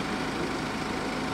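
Suzuki GSX-S750 motorcycle engine idling steadily with a low, even rumble, close by and alone without talk.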